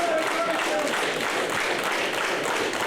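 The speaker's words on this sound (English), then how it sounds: "And the crowd's getting behind this one." Dense roar of a wrestling crowd cheering and clapping during a singles match, a steady wash of noise that stays loud and continuous across the whole stretch, with a voice faintly heard at the start.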